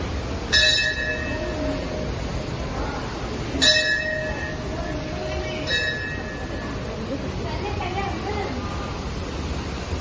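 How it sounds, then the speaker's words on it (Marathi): Three ringing strikes of a temple bell at Kondeshwar Temple, Badlapur, each chiming and decaying, spaced a few seconds apart over background crowd murmur and chatter. "सगळ्यात बघा घंटा वाजू."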